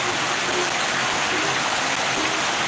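Heavy rain pours down at night in flood-prone Sorong as a dense, steady hiss, loud and unbroken from start to finish with no voices.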